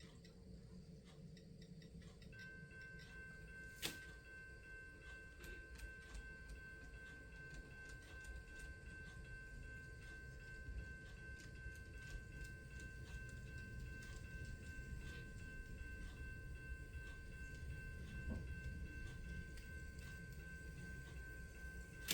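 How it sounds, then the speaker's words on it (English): An N scale model train locomotive runs along the track of a layout, making a faint, steady mechanical rumble with a thin whine that holds throughout, and no one speaks. "So we're going to run the locomotive through there and see how it works."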